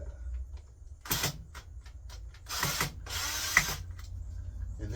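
A power drill drives wood screws into wood, some of them rusted: several short whirring bursts and two longer runs at moderate loudness, with ratcheting clicks between them.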